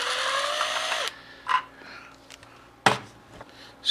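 A power drill whines steadily at close range while driving screws during an LED light conversion, then cuts off, followed by a few brief clicks and knocks.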